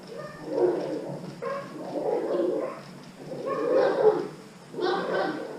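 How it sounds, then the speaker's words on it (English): Dogs bark and yip at each other through a fence in repeated bursts, somewhat muffled and moderately loud, with whimpering between the outbursts. "fights with the dogs next door, and they attack the fence"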